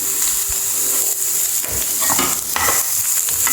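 Chopped onion and two green chillies sautéing in a pan for Kerala-style mushroom thoran, a continuous close sizzle with scraping stirring strokes breaking through at intervals.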